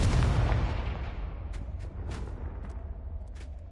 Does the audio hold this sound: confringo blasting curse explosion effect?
yes